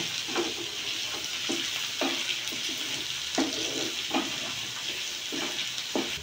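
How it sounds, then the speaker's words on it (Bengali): Yogurt chicken curry stirred in a pan with ground coriander, giving a steady close sizzle broken by regular scraping strokes of the spoon every half second or so. "তারপরে নাড়িয়ে নেবো।"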